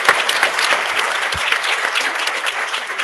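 A round of applause breaks out at a city council meeting's Women's History Month presentation, dense even clapping from the room, fairly loud and sustained.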